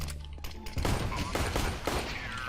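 Glock pistol gunfire in a video game, a dense run of loud shots and clatter that keeps up steadily for the whole stretch.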